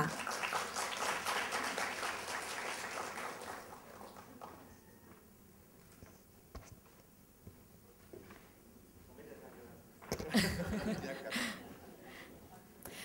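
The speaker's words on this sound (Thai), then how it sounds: "ขอเสียงปรบมือให้อีกสักครั้งหนึ่งค่ะ" Audience applause at an HR seminar in Thailand swells for the first few seconds and then fades, leaving quieter room sounds and scattered noise, with a brief burst of activity near the end.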